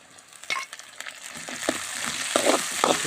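Green chillies fry in hot oil in a pan for gooseberry pickle, a steady close sizzle with scattered crackles and pops as the pieces are stirred, no voices.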